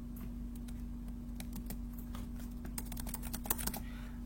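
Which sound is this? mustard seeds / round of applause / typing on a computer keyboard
typing on a computer keyboard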